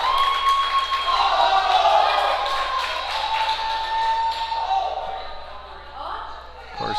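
Home crowd at a powerlifting regional championship applauding and cheering a 52 kg female lifter, sustained clapping and shouts filling the hall before easing off near the end, with a commentator's voice over it.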